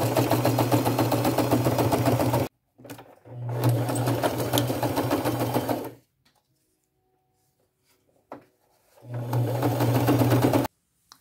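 A sewing machine top-stitches a folded, pressed edge on homemade cargo jeans in three loud, steady bursts of rapid whirring, separated by short pauses and a longer silent gap, close up with no talk.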